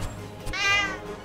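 A cartoonish cat meow from the video game Cat Quest II, a single clear mid-length call over faint background game ambience.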